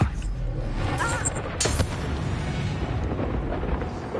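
Confringo blasting spell exploding in Hogwarts Legacy, a sharp burst followed by a rumbling boom that rolls on through the rest of the clip, with no voice over it.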